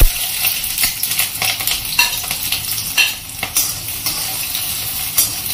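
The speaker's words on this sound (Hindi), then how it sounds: "प्याज डाल देने" Onions frying for a karela sabzi, a steady crackling sizzle in hot oil with occasional stirring scrapes and pan clinks, close and continuous throughout.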